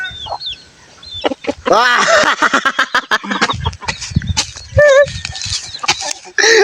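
A chicken clucks and squawks close by in a series of short calls, heard between and under people talking and exclaiming.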